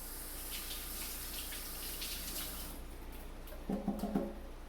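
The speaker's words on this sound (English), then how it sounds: "I'm gonna step off for a second here, rinse my hands." Tap water runs steadily as hands are rinsed of tomato juice at a kitchen sink while cooking pasta sauce, a soft continuous hiss with a louder splashing burst near the end, no voices.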